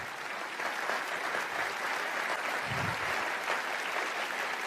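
A church audience breaks into sustained applause as a pastor is welcomed, dense clapping at steady volume throughout with no voices clearly standing out.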